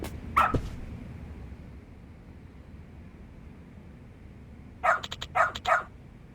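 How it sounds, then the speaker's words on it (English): Dog barking in the video game Lost Judgment: a short double bark at the start, then a quick cluster of sharp barks near the end, mid-distance over a low steady background hum. "Good dog. Very good dog."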